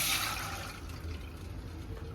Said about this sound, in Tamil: இப்போது இதை நம்ம தண்ணியை வடிகட்டிக்கலாம்